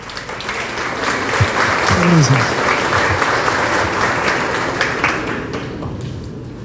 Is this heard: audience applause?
yes